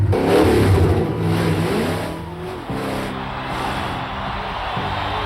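A blown, fuel-injected 454 Chevrolet engine in a 1980s monster truck revs loudly up close, a deep throaty roar rising and falling through several surges.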